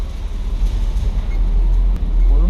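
Low engine rumble from a salvage Porsche Boxster pulling away in first gear, a steady deep drone heard from inside the car, fairly loud and unbroken, with no talking.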